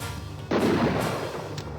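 A single booming gunshot fires in the video game Harvester, a sudden loud blast that cuts in and decays into a rumbling tail, set over low game ambience.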